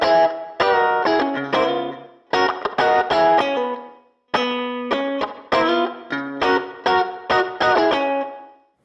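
Distorted electric guitar plays a riff without string rakes, with clipped, punchy chord stabs and single notes in choppy bursts, separated by short silences.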